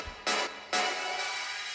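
Synth chords pushed through an extreme Endless Smile tension effect, a bright, wide noisy wash that swells in two surging bursts and then hangs as a sustained hiss, from a disco-influenced breakdown.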